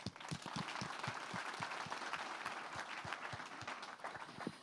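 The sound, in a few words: audience applause for speakers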